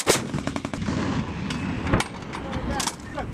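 An M777A2 howitzer fires during an artillery drill, with sharp blasts near the start and again around two seconds over a dense roar and rumble, while crew voices shout commands.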